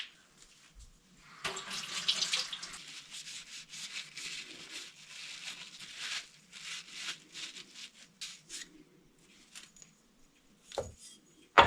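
Water runs from a tap over a part from a 1964 Coleman lantern being cleaned of dirt, a steady close splashing stream with rubbing and scrubbing fluctuations, ending with a couple of sharp knocks.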